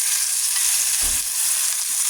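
Chicken pieces frying in a pan for chicken alfredo, a steady loud crackling sizzle that fills the whole stretch, with a brief low thump midway as a piece is moved.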